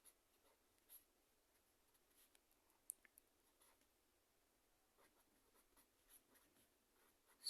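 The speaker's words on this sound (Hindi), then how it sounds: "तो सूत्र लिखेंगे" A pen scratches on paper in quiet, intermittent strokes as a simple-interest formula is written by hand, with a few tiny clicks and a faint closing rustle.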